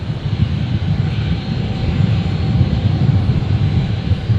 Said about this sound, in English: the 350 has just pushed back